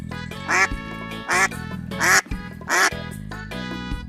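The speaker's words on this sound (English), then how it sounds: "Duck." A duck quacks four times in short, evenly spaced, nasal bursts, a toy animal sound effect over a quiet musical backing.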